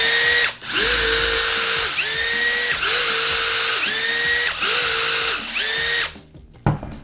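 A Festool TXS 18 cordless drill-driver runs in a series of steady high-pitched whirring bursts, each around a second long with a brief dip between, loud and close, then cuts off near the end with some handling clatter.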